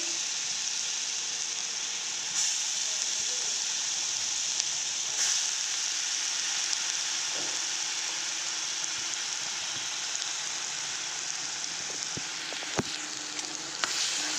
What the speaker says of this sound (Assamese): এইফালে তেলখিনিতে আদা নহৰু পেষ্ট দি দিছোঁ